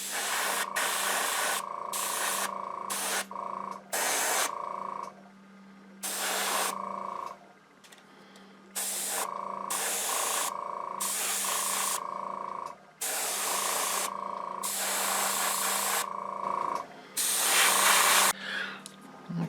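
Repeated bursts of an airbrush spraying Tamiya XF54 Dark Sea Gray onto the cockpit of an Academy 1/72 F-4J Phantom model, hissing in short and longer blasts separated by brief pauses over a faint steady hum.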